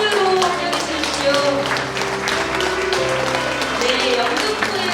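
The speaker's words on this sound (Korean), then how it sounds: "큰 박수로 환영해 주십시오" A crowd at the unveiling of a peace girl statue in Yeongdeungpo claps steadily, dense applause heard close with voices and cheering mixed in.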